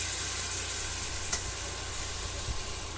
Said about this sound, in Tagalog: Haluin po natin ng maigi para po mag-combine lahat ng ingredients.